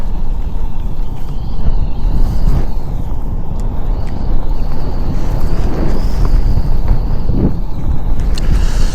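Strong wind buffets the microphone outdoors during a bass fishing trip on the water, a loud continuous rumble with faint higher hiss and a few brief knocks.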